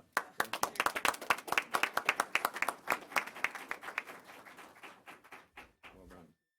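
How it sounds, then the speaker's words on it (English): A small group at a county board of health meeting claps for Stella: a few hands give distinct, fairly close claps that thin out and stop after several seconds, with a brief murmur near the end. "How about an applause for Stella?"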